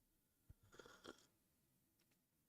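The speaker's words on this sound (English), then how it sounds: "I appreciate you guys don't want to listen to me fucking chewing potato cakes." Someone chews potato cakes close to the mic with a few soft crunchy bites and mouth sounds, ending in a sharp knock.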